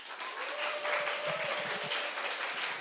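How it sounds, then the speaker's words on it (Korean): A church congregation clapping steadily, moderately loud, with a faint tone and some low thumps underneath. "박수 한번 쳐줘"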